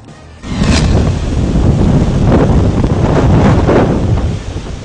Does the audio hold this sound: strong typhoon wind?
yes